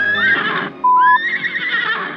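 Horse neighing as a sound effect in a Cinderella fairy tale, where black horses draw a golden pumpkin coach: a loud, close, quavering whinny rising and falling over about two seconds, heard alone.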